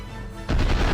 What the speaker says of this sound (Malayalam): നമുക്കിവിടെ ബോംബ് ബ്ലാസ്റ്റ് ചെയ്യാം.